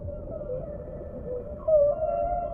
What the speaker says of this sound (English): Sometimes whales use their own sonar, making sounds which can travel many miles